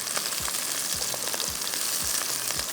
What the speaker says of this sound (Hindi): थोड़ी सी गाजर को फ्राई करेंगे ताकि उसका कलर थोड़ा सा हल्का सा चेंज हो